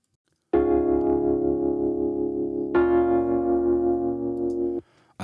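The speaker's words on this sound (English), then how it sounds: "We go to the Rhodes, and the Rhodes sounds like this." Two sustained Rhodes electric piano chords through EQ, compressor and amp simulator, each struck cleanly and left ringing with a warm, mellow tone, heard alone with no voices.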